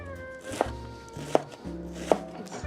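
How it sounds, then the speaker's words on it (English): Sharp knife rough-slicing onions on a board for a Comté cheese quiche: three distinct, evenly spaced chops, close and crisp, with a low hum underneath and no talking. "we're gonna rough slice some onions"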